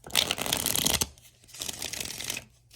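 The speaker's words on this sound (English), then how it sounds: "I love shuffling." Tarot cards riffled and shuffled close up during a fortune-telling reading, with two bursts of dense papery flutter separated by a short pause.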